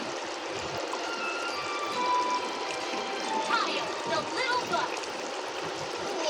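Rice being washed with water, pouring and trickling with small splashes running steadily at close range, and a voice talking faintly in the background.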